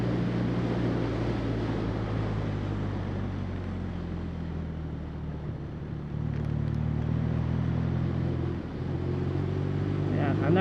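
A 2016 BMW R nineT motorcycle engine drones steadily through a ride, its low rumble shifting pitch as the big bike accelerates, with wind noise and a rider talking over it.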